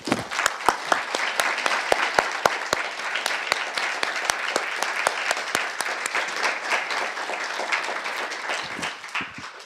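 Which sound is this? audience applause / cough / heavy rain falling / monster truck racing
audience applause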